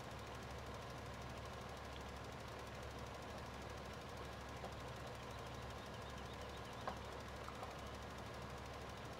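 A tractor engine in Farming Simulator 2015 drones at a steady, faint level with a low knocking rumble throughout, a couple of small clicks near the end and no voices.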